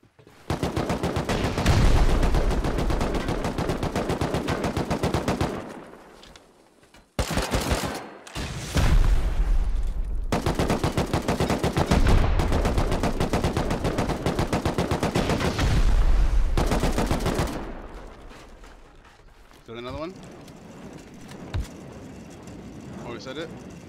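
Gunfire in the online survival game Rust, with long bursts of rapid automatic shots that are loud and sustained, breaking off briefly and then resuming, while players shout over the shooting.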